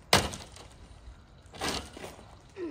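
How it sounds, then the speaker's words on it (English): Ice under a tarp breaks with a sharp crack at the start, followed by a second crunching break and a faint rattle of pieces shifting, all close and fairly loud against a quiet background. "There, you did it. You broke the ice."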